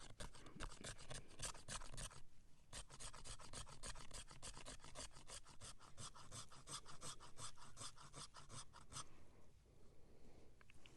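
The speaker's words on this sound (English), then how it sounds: "I'm just going to scrape the edge off here to show y'all" A 90-degree spined knife scrapes steadily along wood to raise shavings, a close, dry rasping in quick repeated strokes with a brief pause partway through.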